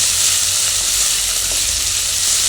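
Onions sizzle steadily in a hot pan while being sautéed for onion sambar, a loud, even frying hiss that continues without pause.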